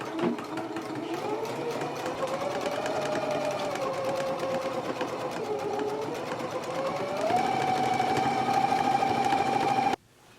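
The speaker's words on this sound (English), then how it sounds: "now we can go to the machine and stitch it in a 3/8 of an inch seam allowance" A sewing machine stitches a 3/8-inch seam on a jacket in one continuous run, its motor whirring with rapid steady needle clatter, briefly speeding up near the end before stopping abruptly.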